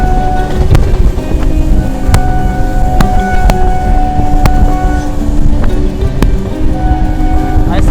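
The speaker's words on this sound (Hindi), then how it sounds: "हॉकिंग करता हुआ अपना WAP7 लोकोमोटिव।" A WAP7 electric locomotive sounds its horn on a passenger train run through Jharkhand hills, the steady tone ringing over loud rumbling wheels and rushing wind throughout.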